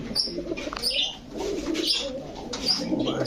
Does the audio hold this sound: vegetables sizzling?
no